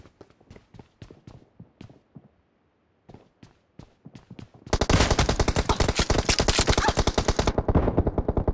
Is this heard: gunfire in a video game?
yes